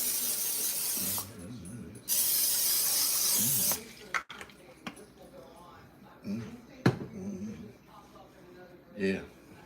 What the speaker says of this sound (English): after I spray the pan down, a nice sized pan for the scrambled eggs